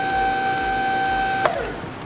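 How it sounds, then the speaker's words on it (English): Two-post car lift raising a car, with a steady electric motor hum carrying two tonal lines, ending in a sharp clunk as it stops. "We first have to lift the car a little bit to take the tension off"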